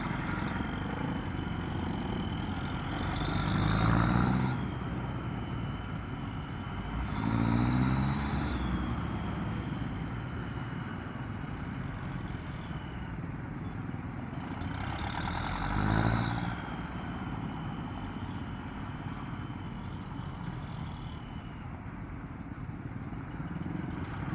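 Steady road traffic on Commonwealth Avenue during a daily ride, with a continuous engine and tire rumble and a few louder vehicles swelling past up close, no talk over it.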